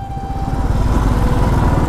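A Royal Enfield Classic motorcycle rolls at low speed into a crowded market, its engine giving a loud, close, low thumping rumble.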